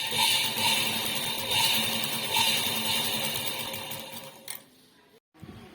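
A sewing machine stitches loose pants in a steady, close mechanical whir that runs continuously for about four and a half seconds, then slows and stops with a couple of faint clicks.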